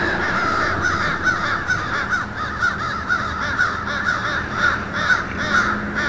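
A crow caws repeatedly and loudly at close range over a dense, steady wash of background noise, with no talking.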